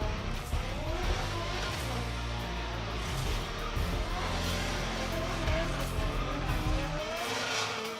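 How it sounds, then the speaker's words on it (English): A drift car does a burnout in the burnout box at an FDJ2 drifting competition at Okuibuki Motorpark, Shiga. A loud, steady engine roar and screeching tires continue unbroken throughout. "It sounds like we have our next matchup in the burnout box."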